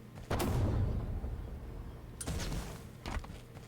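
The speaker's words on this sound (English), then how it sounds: "See, man cannons are functioning." A man cannon in Halo Forge launches with heavy booming thumps, one long rumbling blast followed by two shorter bursts, loud and close.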